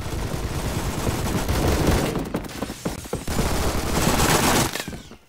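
Roblox Phantom Forces gunfire crackles in dense, rapid volleys of close, loud shots that run almost continuously, with sharp individual cracks around the middle before the firing cuts off near the end.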